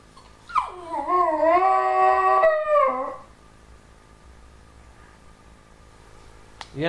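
A dog howls in a long rising and wavering tone for about three seconds, ending in a short whimper, followed by quiet room noise.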